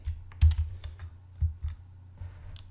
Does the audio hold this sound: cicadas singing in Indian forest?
no